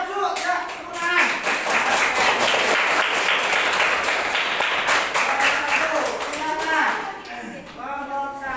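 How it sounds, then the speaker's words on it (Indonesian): A classroom group in Indonesia breaks into sustained applause, dense hand clapping that swells quickly and holds steady for several seconds before thinning out, with children's voices mixed in underneath. "Ya, tepuk tangan."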